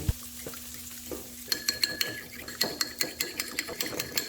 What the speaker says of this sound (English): I haven't beaten my eggs yet